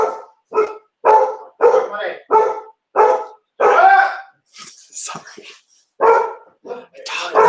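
A dog barks in short, loud repeated bursts, a rough rhythmic series close by, with a person briefly speaking between barks.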